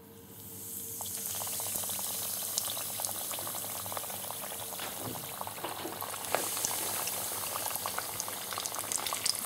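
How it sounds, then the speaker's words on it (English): Steady crackling sizzle of spicy spinach and plantain rolls frying in hot oil, dense and continuous, with occasional sharper pops and spits throughout. "this is our last two spicy spinach and plantain rolls are frying off here now"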